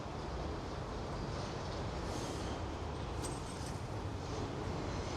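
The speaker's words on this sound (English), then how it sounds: "Right here you could see the M train as well as the J train coming over the Williamsburg Bridge" M and J subway trains cross the Williamsburg Bridge in Brooklyn, a steady, faint, distant rumble and rattle of rail cars that stays constant throughout.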